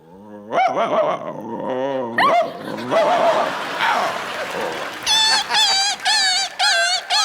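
A man vocally imitates dogs fighting, producing snarling growls, yelps and a run of sharp repeated barks that grow louder and more clipped toward the end, performed before a studio audience.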